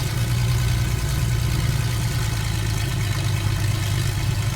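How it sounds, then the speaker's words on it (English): Simulated vintage propeller aircraft engine, a Wilga or Breguet XIV in Microsoft Flight Simulator 2024, droning loud and constant with a steady low rumble throughout, no talking. "Loud engine sound. We're gonna have to adjust that."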